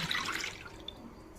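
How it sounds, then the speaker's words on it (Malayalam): Coconut milk pours into a pan in a short splashing stream, loudest at the start and then tapering off, with no talking. "തേങ്ങാപ്പാൽ ഇതിലേക്ക് ഒഴിക്കാം"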